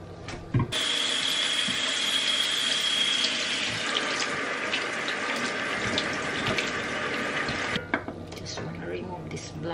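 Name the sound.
tap water running while washing shrimp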